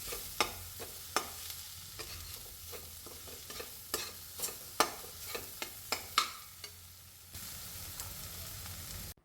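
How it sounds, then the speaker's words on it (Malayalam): Masala with chili powder and garam masala for stuffed squid fries in a pan under a soft constant sizzle, broken by a dozen or so sharp, close spatula taps and scrapes at an uneven rhythm. "ഇനി ഇതിൻ്റെ പച്ചക്കുത്തൊക്കെ ഒന്ന് പോകണ വരെ ഒന്ന് മൂപ്പിച്ചെടുക്കാം."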